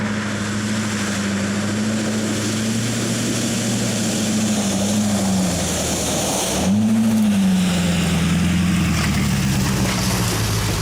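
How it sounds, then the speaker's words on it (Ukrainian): A 9-tonne Novator armored vehicle driving off-road over rough terrain, its engine droning loudly with a steady pitch that dips and swells as it pushes through the bumps, heard from inside the cabin. "А от ми виїжджаємо на бездоріжжя. Трясе вже значно сильніше, але машина впевнено долає практично будь-які перешкоди."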